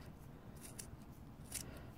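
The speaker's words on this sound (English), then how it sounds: "my scissors into that groove and cut away" Scissors snip through wound yarn while a pom pom is being made, two crisp close cuts landing about a second apart over a quiet rustling background.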